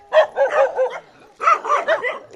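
Close, loud dogs barking in two quick bursts of several barks each, separated by a short pause.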